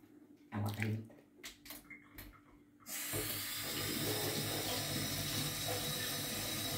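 Water gushes steadily from a tap into an electrolysis water filter with a bright, hissing rush after a few seconds of handling clatter, continuing evenly to the end.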